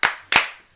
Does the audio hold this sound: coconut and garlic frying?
no